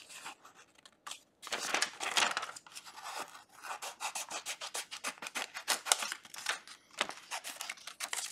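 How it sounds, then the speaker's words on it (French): Scissors snip through vellum paper in a close, quiet sequence of short crisp cuts with a rubbing, rasping texture, steady and uneven in rhythm, with no talk over it. "je prends du vélum que je vais découper"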